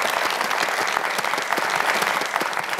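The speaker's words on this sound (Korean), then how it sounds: "박수 한번 부탁드릴게요" A studio audience at a Korean television broadcast claps steadily, a dense even patter of many hands throughout, with no voices on top.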